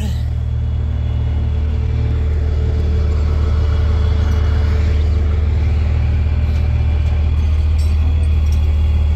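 A truck engine runs with the PTO engaged to raise the dump bed, a loud, steady low rumble that holds unchanged throughout, close by, with no talk standing out.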